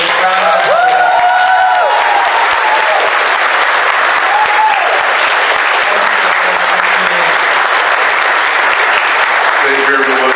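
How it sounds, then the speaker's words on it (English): Sustained, loud audience applause fills the room at the end of a session with David Sobolov, with whoops and voices rising above the dense clapping throughout. "Can we please give him a last big round of applause?"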